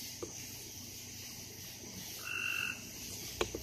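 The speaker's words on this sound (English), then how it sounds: "These are little tree frogs." Faint, brief chirping croaks from small tree frogs, one short trill standing out against a quiet, steady outdoor hum.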